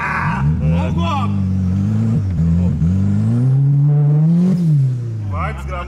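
Volkswagen Gol turbo running on alcohol fuel, its engine revving and accelerating hard with a rising, wavering drone that swells loud near the end, while people talk and shout excitedly over it.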